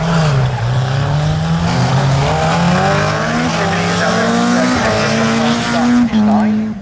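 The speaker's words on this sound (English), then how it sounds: "Gawain Clark in his Subaru Impreza as he ploughs towards Hall End" A Subaru Impreza rally car races around a circuit during a stages rally, its engine droning loud and close with rising, shifting pitch through a continuous pass.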